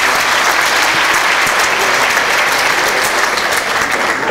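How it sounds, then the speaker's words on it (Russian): A large hall audience at a KVN comedy contest erupts in loud, dense applause, a sustained roar of clapping that stays strong and close throughout. "Ваши аплодисменты."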